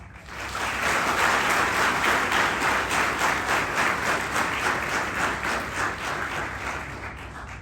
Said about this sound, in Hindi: तालियां और भी बजानी है एंड में